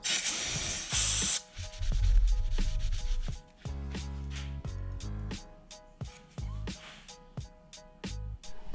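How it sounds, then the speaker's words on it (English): Contact cleaner sprayed onto a boat part, with a long loud hiss at the start followed by repeated short spray bursts and rubbing scrapes, close up. "So I'm gonna clean this off with the contact cleaner"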